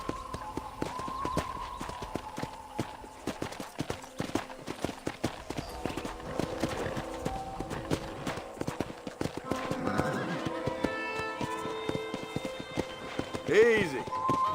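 A horse in the video game Red Dead Redemption trots with steady clip-clop hoofbeats and whinnies loudly near the end, set under in-game music and voices speaking throughout.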